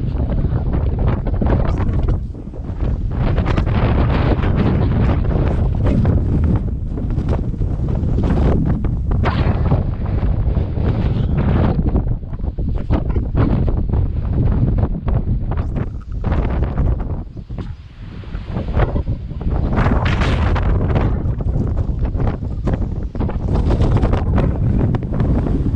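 Strong wind in Saudi Arabia during bad weather roars and buffets the microphone continuously, loud and gusty, with brief lulls before the rushing returns.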